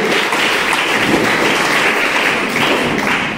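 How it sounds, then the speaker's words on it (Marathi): A school audience claps at a prize-distribution ceremony at Yashwantrao Rane Madhyamik Vidyalaya, Bapardé, honouring a seventh-grade girl. The applause is loud and sustained, with thick overlapping claps across the whole clip and no voices. "जोरदार टाळ्या पाहिजे"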